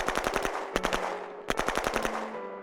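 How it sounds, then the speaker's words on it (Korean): Rapid bursts of automatic gunfire crack out in tight rhythmic volleys, pausing briefly between strings of shots, loud and close with a metallic ringing tone beneath. "K-요원은 자신이 멈추겠다 말하고는 한동안 총성이 울리고"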